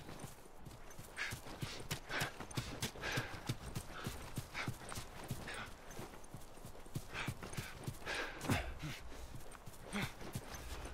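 Horse hooves clip-clopping in The Last of Us, a steady walking rhythm of distinct, fairly faint hoof strikes on hard ground, with a soft snort here and there.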